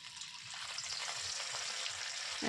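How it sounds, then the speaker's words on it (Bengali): Paneer pieces fry in hot refined oil with a little salt, giving off a continuous, even sizzle that builds slightly. The frying sounds close but fairly quiet, with no voices. "এবার আমি এই তেলের মধ্যে পনিরগুলো ভালোভাবে ভেজে নেব।"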